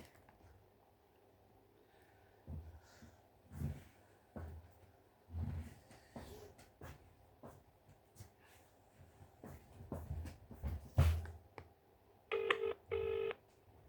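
Telephone keypad tones beep one by one in an uneven sequence while calling voicemail, each short tone separated by pauses, then a louder pair of sustained dial tones near the end; quiet room, no talking.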